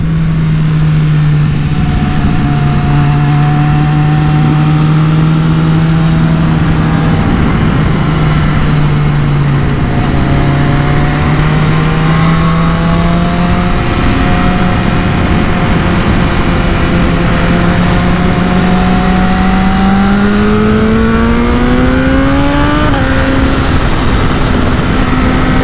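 A BMW S1000R motorcycle at a race-track day, its engine droning loud and close, holding a steady tone before climbing in pitch as it accelerates hard, continuous for the whole stretch with no voices.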